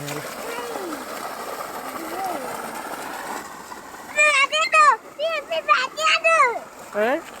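Splashing water mixes with excited children's voices calling and shrieking in bursts, close by and lively.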